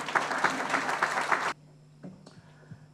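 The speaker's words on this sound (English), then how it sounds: "Please join me in giving a warm round of applause for Prime Minister Fiame." An audience at a US Independence Day celebration in Samoa applauds the Prime Minister of Samoa. Warm clapping lasts about a second and a half, then stops abruptly, leaving a few scattered claps.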